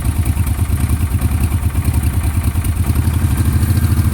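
A 2008 Kawasaki Brute Force 750 ATV with a brand new motor idles as it warms up, a loud, close, rhythmic thumping engine note with a slight mechanical clatter, steady and alone.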